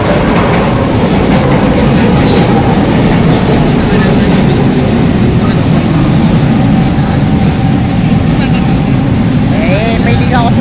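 A third-generation LRT Line 1 light rail train arriving at Tayuman Station in Manila, a loud sustained rumble with rhythmic wheel clatter and a brief squeal near the end, with people talking over it.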